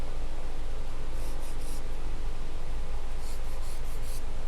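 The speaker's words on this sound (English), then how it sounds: "I like to take my little sander and just get rid of those little tabs" A small sander works the tabs off chipboard pieces during papercrafting, giving a steady, continuous rasping rub that holds at an even level throughout.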